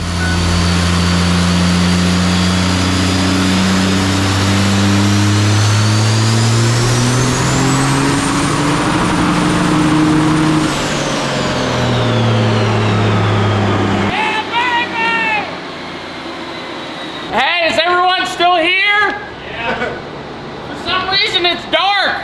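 Twin-turbo Cummins diesel in a Ford Ranger roars loudly on a dyno under eddy brake load, its pitch climbing through a long pull with turbo whine before dropping away, then people talk excitedly over the quieter engine.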